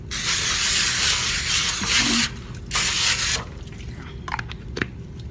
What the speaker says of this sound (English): We're going to spray it with a little Pam or whatever cooking spray you might have.